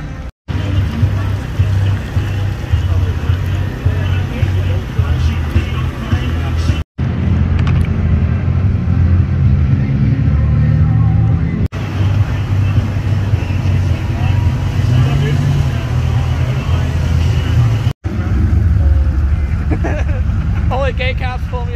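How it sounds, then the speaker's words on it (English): Heavy traffic at Detroit SnowFest gives a continuous deep rumble of idling and creeping vehicle engines with some wind. The noise stays loud and close, with voices faintly under it. "It's so much traffic out here."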